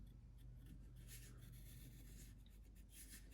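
Quiet scratchy rubbing of a pencil tracing a side profile on wood for a duck decoy, short strokes, faint and close, over a low background hum.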